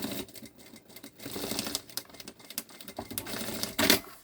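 Sewing machine stitching the seam of a synthetic-material backpack, running in uneven bursts of rapid mechanical clatter with short pauses between runs, close and moderately loud with no talk.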